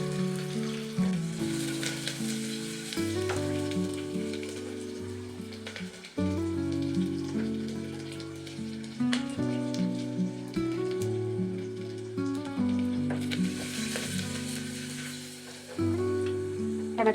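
Red chilies and ginger-garlic paste sizzle steadily in a hot pan, a continuous frying crackle that runs under loud melodic background music throughout.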